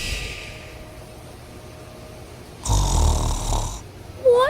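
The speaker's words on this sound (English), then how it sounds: "I think he's snoring. He sounds like a bulldozer." Loud snoring from a boy asleep in a bed, one heavy rumbling snore burst after a quieter stretch, with a brief squeaky sound at the end.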